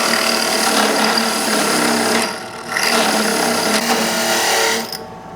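A drill bit cuts a hole through aluminum on a boat, a loud, grinding whir that runs steadily, dips briefly for a moment, then resumes before stopping.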